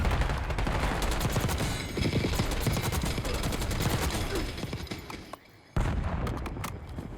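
AK-74 gunfire in Call of Duty: Black Ops 6 comes as rapid, loud, continuous automatic bursts, dense and close, with only a short pause before firing resumes.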